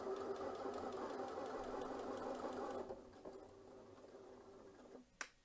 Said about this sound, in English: And so now it will stitch the bar tack at the end, and then continue stitching the other side of the buttonhole.